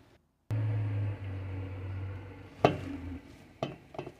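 Cooked noodles being stirred together with a freshly whipped carbonara sauce in a pan, a steady low churning with a few sharper scraping knocks toward the end, no voices.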